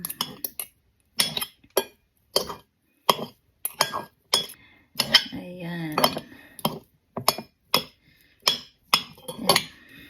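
Bread spread ingredients being crushed in a bowl, with repeated sharp clinks of utensil on glass at an irregular pace and a brief stretch of speech in the middle.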